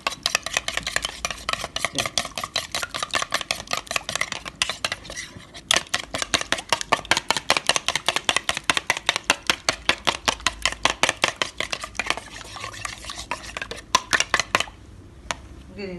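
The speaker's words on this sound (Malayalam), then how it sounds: "മുട്ടയ്ക്കുള്ള ഉപ്പ് മാത്രമാണ്. നന്നായിട്ട് ബീറ്റ് ചെയ്തിട്ട്" Eggs with salt are beaten briskly in a bowl, a fork or whisk clicking against the side in a fast, steady rhythm of sharp taps that runs nearly nonstop, close and clear with no talking.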